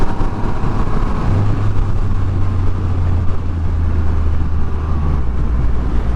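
Triumph Rocket 3R motorcycle engine running smoothly under light throttle, a steady low rumble with a faint pitch rise partway through, close and continuous with no talking.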